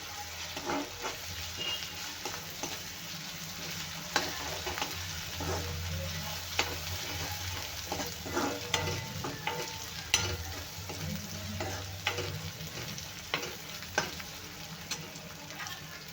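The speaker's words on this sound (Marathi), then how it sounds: "ही पूर्ण वाटून घेतलेली आहे ही पेस्ट एक चम्मच तेलामध्ये छान भाजून घेऊया" Spice paste of ground coriander and green chilli frying in a spoonful of oil, a steady soft sizzle with scattered spoon scrapes and stirring clicks throughout, fairly quiet and with no talking.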